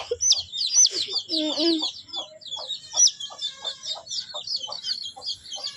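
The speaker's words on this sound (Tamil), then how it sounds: "பாருங்க இதுதான் மொட்டை கழுத்து கோழி" Naked neck chickens clucking and chirping close by in a steady, busy stream of short calls, with a brief lower squawk partway through.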